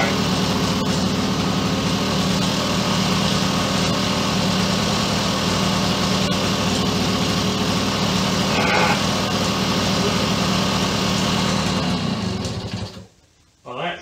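A Suzuki K11 two-stroke engine with new pipes, rebuilt head and cylinder, and reused gaskets runs at a steady, buzzy idle, close and loud, for about thirteen seconds before cutting out abruptly.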